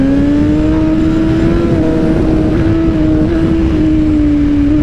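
A Suzuki GSX-R motorcycle engine drones loud and close on a race circuit in Dakar, holding a steady high-revving tone with a slight pitch rise and dip, alone without talk.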